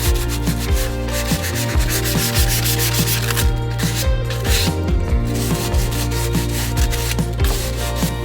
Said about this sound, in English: Okay, I got it all sanded.